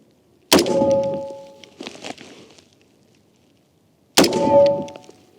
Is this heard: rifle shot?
yes